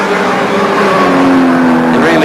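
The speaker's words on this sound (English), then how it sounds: "The Peter Jackson Nissan Skyline getting closer all the time to Peter Brock." A Nissan Skyline touring car racing in the 1986 Australian Touring Car Championship, a loud close engine note climbing and holding pitch as it accelerates, with a commentator's voice over it.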